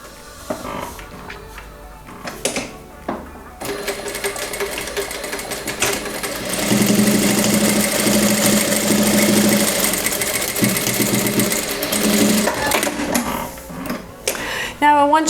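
Sewing machine stitching sweatshirt cuffs, folded and sewn one centimeter from the edge, running in a steady mechanical buzz for several seconds mid-way, with a voice talking before and after.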